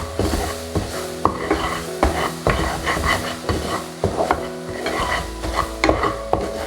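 Roasting besan for jaggery besan laddu, cooked in ghee, is stirred in a pan after a splash of water, with repeated rhythmic scraping strokes over a soft sizzle and no talking.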